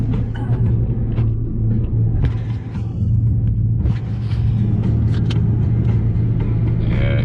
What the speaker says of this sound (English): We're off-roading now, boys. We're rolling. Gas up the hill.